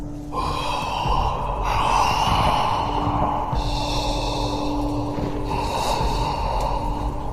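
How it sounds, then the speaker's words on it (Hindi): Heavy, menacing breaths from a cloaked figure, long slow inhales and exhales in three or four drawn-out waves, loud and close with a snorting, gasping edge. "वो कुछ और बोला नहीं और लंबी लंबी भयानक सांसें लेने लगा।"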